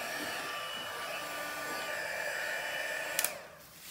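A heat tool blows hot air over embossing powder on a card, a steady close whoosh that cuts off with a couple of clicks near the end, leaving quiet.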